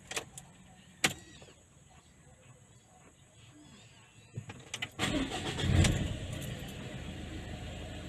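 A car with a manual gearbox is started with the key, bringing a few sharp clicks and a rattle, then the engine catching and rising to a louder idle near the end.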